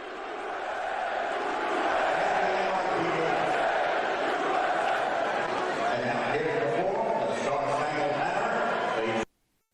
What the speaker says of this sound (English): the cheers for Donald Trump and the chants of USA when he first was spotted